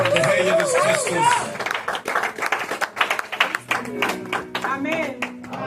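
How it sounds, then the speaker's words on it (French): A church congregation claps in praise of Jesus Christ, with rhythmic applause under a preacher's amplified voice and a swell of crowd voices. "wir applaudieren für den Herr Jesus Christus."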